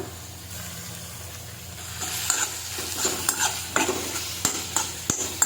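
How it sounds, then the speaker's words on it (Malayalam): Onion and tomato sauté in a pan on medium flame for a paneer curry, a quiet sizzle that grows busier as a spoon stirs and scrapes, with a few sharp knocks against the pan. "തക്കാളിക്ക ചേർത്ത് കൊടുത്തിട്ടുണ്ട് നല്ലപോലെ വഴണ്ട് വരട്ടെ"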